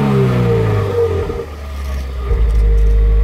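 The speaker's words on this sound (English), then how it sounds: "rev it up a little bit" A Subaru WRX with a muffler delete revs up and back down, its deep loud exhaust rising then falling in pitch before settling into a heavy low drone.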